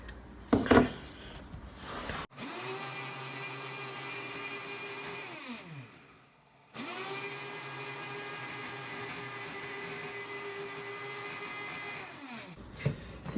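A kitchen blender whirs steadily as it blends lemon and ginger with water, a sustained motor drone that stops briefly and starts again for a second long run.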